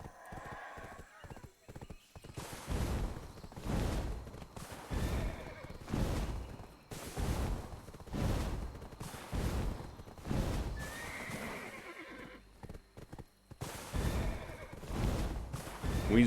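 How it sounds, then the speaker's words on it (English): A horse in the video game Black Desert Online gallops with rhythmic clip-clopping hoofbeats in repeated bursts, broken by loud neighs and whinnies, while a person talks over it at times. "That's how this horse runs."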